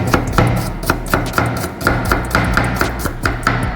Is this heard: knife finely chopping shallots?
yes